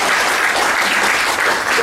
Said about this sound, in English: Let's give a round of applause to all the panelists and also the participants